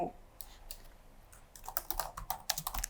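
Typing on a computer keyboard: scattered key clicks at first, then a quick burst of rapid close keystrokes, with faint talk nearby.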